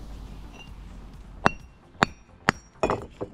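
Hammer blows splitting bricks into half bats during bricklaying, four sharp ringing clinks spaced about half a second apart, close and fairly loud, with a scrappy rattle of brick fragments after the last strike.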